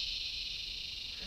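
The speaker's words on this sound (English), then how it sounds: "Insects." Insects near an old abandoned tunnel, a loud, steady, high-pitched droning chorus that fills the air without a break.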